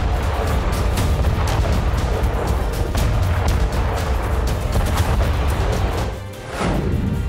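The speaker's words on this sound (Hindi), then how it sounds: "बंकर में छिपे रूसी सैनिकों पर बम बौछार।" Bombs bursting on Russian soldiers sheltering in a bunker during the Russia-Ukraine war, heard as a continuous, loud roar of blasts and rumble that barely lets up, with a brief dip near the end before the din resumes.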